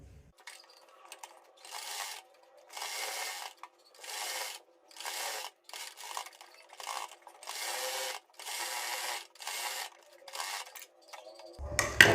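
A sewing machine stitching a placket onto a kurti runs in short repeated bursts of mechanical whirring, about ten runs separated by brief pauses, close and moderately loud with no talking.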